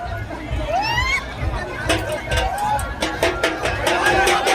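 A large crowd outside a rally pandal fills the air with loud hubbub and chanting, someone talking over the din while rhythmic claps or beats punctuate the second half.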